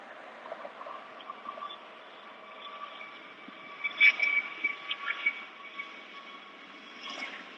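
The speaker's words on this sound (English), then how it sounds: "There's another plane taking off." A distant airplane taking off, its engine a thin, steady droning roar that swells slightly, heard faintly outdoors with a few small sounds nearby.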